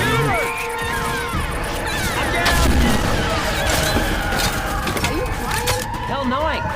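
Gunfire rings out in the video game Honkai: Star Rail, a rapid fusillade of shots and impacts spread across the scene, with excited voices talking over it.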